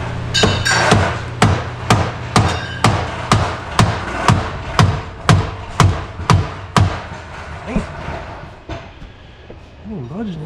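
A hammer strikes again and again, hard and close, pounding on a stuck steering shaft in a Can-Am Maverick X3 held under a ratchet strap. About fifteen sharp metallic blows land at a fairly steady pace, then the strikes stop and low voices murmur at the end.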